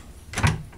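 A wooden drawer slides open in a solid wood buffet sideboard with a granite top, one short close scrape and soft knock.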